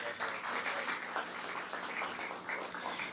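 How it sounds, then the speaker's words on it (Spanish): An audience at a professional architects' lecture event in Trujillo, Peru, gives a doctor a round of dense, continuous applause, moderately loud and steady throughout. "Un fuerte aplauso nuevamente para el doctor"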